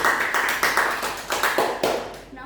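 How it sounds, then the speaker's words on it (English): Classroom applause during a microteaching lesson on gravitational potential energy: a short run of close, rhythmic hand claps for about two seconds with no talk over it. "let's give her applause"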